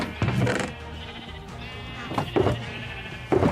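Sheep in a video game bleat three times in separate, clearly audible calls, each a wavering nasal cry over a quiet background.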